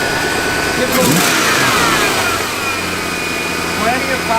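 A 1965 Ford Mustang engine fitted with a K&N air cleaner idles steadily, then rises in a brief rev and settles back to a loud, close, continuous rumble.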